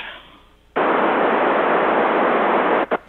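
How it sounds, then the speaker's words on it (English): Loud, steady radio static hisses in as a broad wall of white noise, starting abruptly after a quieter lead-in, holding flat for about two seconds, then cutting off with a short final burst. "This is white noise."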